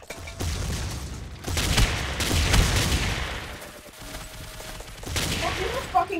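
Gunfire echoes through the blocky shooter game Ace of Spades: bursts of shots and booms come in uneven clusters, loud and close, with a few quieter pops near the end and no clear speech.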